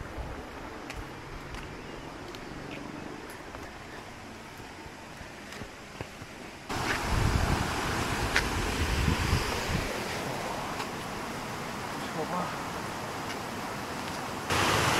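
Water from a village stream near a hidden waterfall in the Ooty hills flows in a steady, soft rushing hiss that grows noticeably louder partway through, with no voices.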